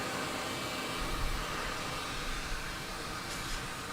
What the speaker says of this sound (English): Because this dryer gets super hot, which is great.